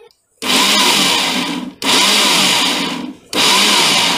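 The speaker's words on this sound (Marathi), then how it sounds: "आता मी मिक्सरमध्ये टाकून घेते, 2 वेळा वाटायचे." A loud mixer grinder grinding chutney whirs in three short bursts, cutting off briefly between each run, with no talking.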